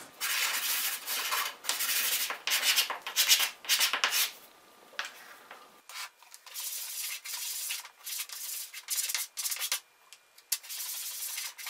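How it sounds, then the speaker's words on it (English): Steady back-and-forth scratchy rasping of 220-grit sandpaper on wooden Christmas tree bells, close and continuous with brief pauses between strokes, no talking. "So I'm just sanding those off. And I'm just using some 220 sandpaper."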